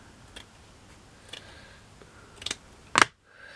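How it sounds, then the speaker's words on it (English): Scissors snip material for a miniature boat model, giving a few sharp, light cuts spread over several seconds that build to a louder final snip, close up on a quiet background. "So I'm just going to cut this."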